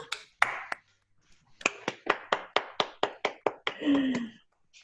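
Participants on a video call clap together at the close of a youth and inequality discussion session, a run of about a dozen sharp, evenly spaced claps building near the microphone, followed by a brief murmured voice.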